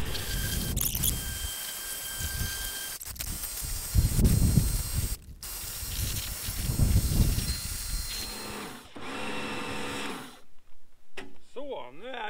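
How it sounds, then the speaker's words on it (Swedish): Pressure washer spraying water to rinse a car, a hissing jet that comes and goes in bursts with mechanical clicks between, heard up close under occasional talk. "nu spolar vi av bilen"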